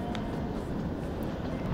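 Kalka-Shimla toy train running on its mountain line, a steady broadband rumble and rattle close by, with no clear rhythm.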